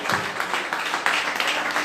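A church congregation applauds during a worship service, dense and steady clapping filling the room with voices mixed in.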